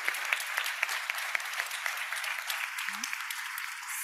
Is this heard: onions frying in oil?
no